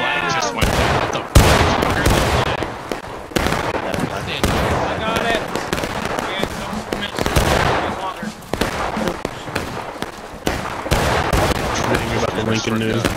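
Musket volleys in the Civil War game War of Rights boom repeatedly, loud and close, with sharp cracks and rolling echoes in bursts across the stretch, while players shout and talk over the firing.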